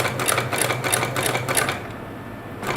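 A sewing machine doing bobbin work, a form of thread painting, runs in a steady fast stitching rhythm for most of the span, then slows and stops near the end.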